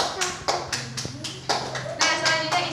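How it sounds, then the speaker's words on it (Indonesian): A class of pupils claps in a quick rhythmic series of sharp, close hand claps, a short cheer-like pattern with children's voices faintly in the background. "Beri tepuk tangan buat Elvina."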